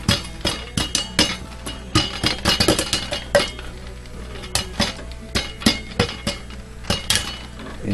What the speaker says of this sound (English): I'm moving the pot over the flame because what you want is nice even heat